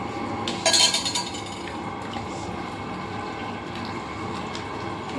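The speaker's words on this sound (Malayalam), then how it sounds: "ബാക്കി പാലും കൂടെ ഒഴിക്കുവാണ്" Coconut milk being poured into a pot of duck mappas curry, a brief clinking burst followed by a steady liquid trickle and low kitchen noise.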